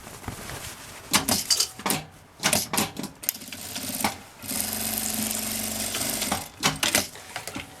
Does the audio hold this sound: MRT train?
no